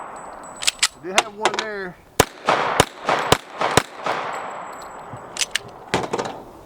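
A 1911 pistol fires a series of sharp, loud shots in an uneven rhythm with short gaps, each crack ringing briefly, while a person talks briefly between them.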